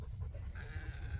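A ewe bleats in a drawn-out, wavering call over a low, continuous rumble, fairly close by in a pasture.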